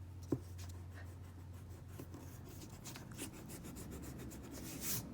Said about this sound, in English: I'll use my pencil eraser. I'll erase my middle line.